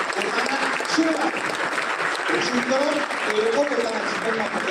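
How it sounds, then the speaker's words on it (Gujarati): Steady, dense applause from an audience at a motivational speech fills the whole stretch at an even level, with a voice speaking over it. "તો આપ સૌ તાળીઓના ગડગડાટથી આ બધાને પોતાના આશીર્વાદ રજૂ કરો"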